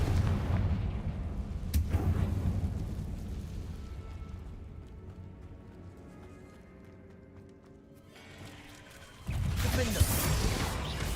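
Confringo explosive spell cast in Hogwarts Legacy during a spider fight in a tomb, a loud fiery burst near the start, then a quieter stretch before another heavy blast of noise near the end.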